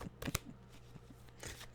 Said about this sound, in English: we got to give it a fast shuffle.